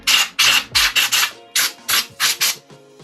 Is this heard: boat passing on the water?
no